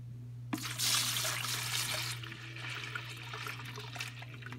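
Gelatin mixture poured into a pumpkin mold, a sudden rush of liquid starting after a moment of quiet, splashing loudly then settling into a softer steady trickle over a low electrical hum.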